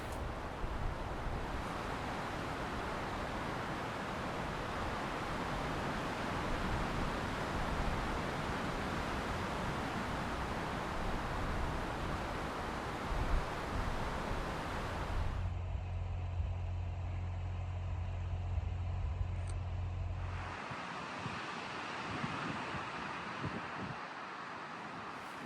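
Strong wind buffets the microphone high on the Grand Canyon's North Rim, a loud, continuous roaring rush with gusty swells, easing into a lower rumbling stretch midway before the blustery noise returns.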